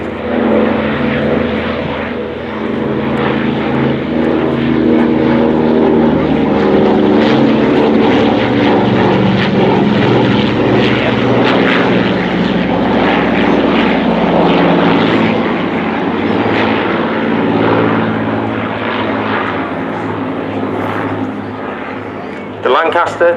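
A Hawker Hurricane propeller fighter flies low past an air show crowd. Its engine gives a loud, sustained droning growl that swells and holds for the whole pass, with a voice talking over it.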